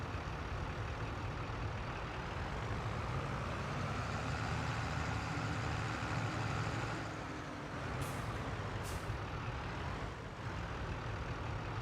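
A 235-horsepower tractor engine in Farming Simulator 22 drones in a steady, loud, low rumble throughout, with a slight dip in level partway through.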